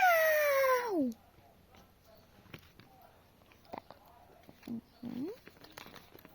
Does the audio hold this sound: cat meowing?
yes